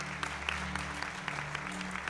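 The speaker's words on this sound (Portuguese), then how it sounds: "Uma salva de palmas para os visitantes," A church congregation at a Baptist Saturday service claps for visiting guests, a steady dense patter of many hands close by, with a low hum of music or organ tones running underneath.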